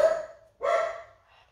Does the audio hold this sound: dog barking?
yes